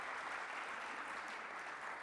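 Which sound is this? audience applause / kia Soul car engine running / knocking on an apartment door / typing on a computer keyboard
audience applause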